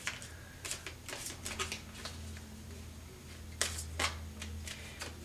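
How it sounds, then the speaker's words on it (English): Tarot cards are shuffled by hand in irregular soft flicking and riffling bursts, close and fairly quiet over a low background hum, with no talking. "Every time I shuffle these cards,"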